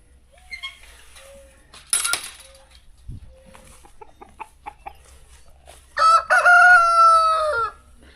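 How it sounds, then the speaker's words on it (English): A rooster in a chicken coop crows once, loud and near, after scattered soft clucks and clinks, with a sharp knock partway through; no talking. "He just keeps cookle-dooing the whole day."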